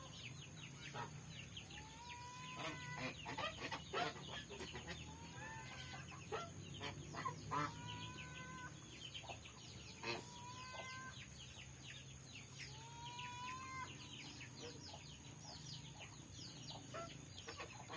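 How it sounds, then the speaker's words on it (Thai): Geese call in a series of honks and cackles, some close and some farther off, over a steady high-pitched hum in a quiet outdoor setting. "บรรยากาศห่านก็จะประมาณนี้นะคะ"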